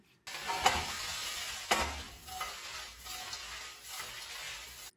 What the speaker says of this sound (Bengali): ভেজে রাখা চিংড়িগুলো অ্যাড করে দিচ্ছি আর সব কিছুকে আবারও ভালো মতো মিশিয়ে নিচ্ছি